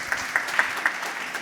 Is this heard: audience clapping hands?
yes